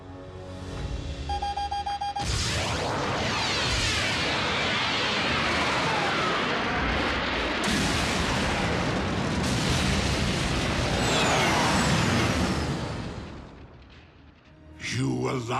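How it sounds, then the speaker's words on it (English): Three tons of Energon blow up in an animated Transformers scene, a huge sustained explosive roar with rumbling and crackling debris that runs for many seconds before fading, and a brief burst follows near the end. "Just in case you ever wondered what 3 tons of exploding Energon sounds"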